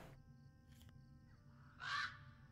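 Birdsong in The Lord of the Rings Online video game: a single faint, short bird call stands out over a steady hum of game ambience, heard alone with no talking.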